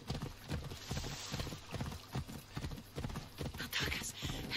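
In Assassin's Creed Odyssey a horse gallops with fast, rhythmic hoofbeats up close while a person talks excitedly over the top.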